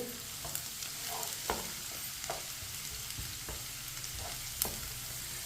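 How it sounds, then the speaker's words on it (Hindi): Finely chopped onion fries in oil in a pan for masoor dal, a steady low sizzle broken by sharp clicks and scrapes of a spoon stirring it at intervals, with no talking. "इसी तरह चम्मच चलाते हुए ब्राउन करना है प्याज को।"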